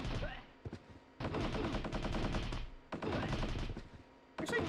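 Sustained automatic gunfire from a weapon in the video game Crime Crackers, two long rattling bursts separated by a pause, fairly loud, with a voice talking over it.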